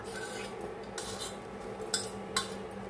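Cooked rice being added to fried coconut in a pan, heard as metal utensil scraping and clattering against the cookware, with a couple of sharper clinks near the end. The sound is close and there is no talking.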